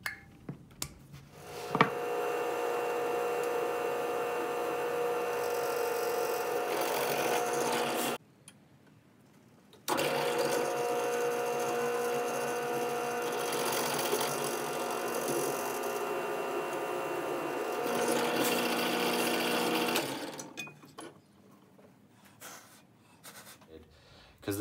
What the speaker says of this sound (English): now time to drill some holes